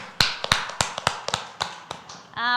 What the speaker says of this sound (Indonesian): Kita beri aplaus dulu rekan Pipin.